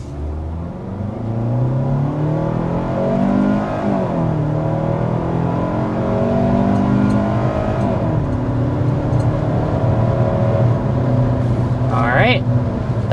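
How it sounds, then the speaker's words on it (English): A 2026 Kia Sportage engine revs hard accelerating to 60 mph, pitch climbing through gear shifts, heard from inside the cabin over a steady road rumble. "we need to go ahead and start with a hard acceleration."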